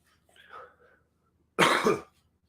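A faint throaty sound, then a single short, harsh cough close up, followed by quiet.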